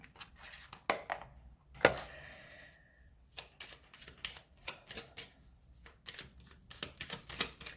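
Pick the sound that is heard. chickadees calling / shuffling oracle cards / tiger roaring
shuffling oracle cards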